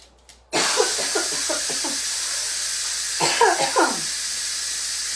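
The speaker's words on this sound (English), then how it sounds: "I'm going to push the steam release button" A sudden, loud, steady hiss of steam bursting from a pressure cooker valve, continuing throughout while a voice talks underneath.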